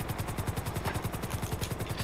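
A video-game helicopter gives a rapid, even rotor thump that repeats several times a second, close and steady through the whole stretch, with no voices over it.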